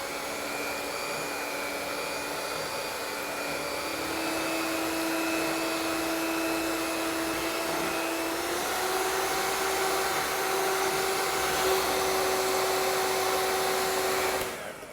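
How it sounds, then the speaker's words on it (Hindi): An electric hand mixer whips cold cream for a mango mousse, a steady motor whine that holds for the whole stretch, shifting pitch slightly partway through, close and alone until it cuts off at the end. "चले इसको अब हम डाल देते हैं और इसको व्हिप करते हैं।"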